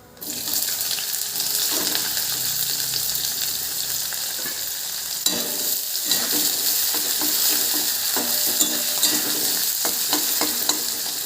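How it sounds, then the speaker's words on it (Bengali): Chopped onion hitting spiced oil with dried chili, bay leaf and cumin, sizzling loudly and steadily while being stirred, with occasional scraping clicks close by. "ফোড়নটা কিন্তু হয়ে গেছে, আমি পেঁয়াজ কোচানো দেবো"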